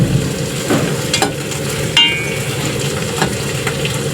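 Squid frying in a pan for adobong pusit, a steady broadband sizzle with occasional stirring clatters and utensil scrapes, close and continuous with no talk.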